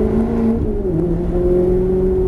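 A Maserati GranTurismo S engine hums loudly and accelerates through the gears, its droning pitch shifting slightly, resonating as if in an enclosed space.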